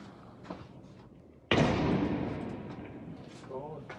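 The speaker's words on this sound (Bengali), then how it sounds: "গুলি করছে ওই জানেন" A single sharp, loud shotgun bang cuts in abruptly and rings out with a long fading echo, with faint voices before it.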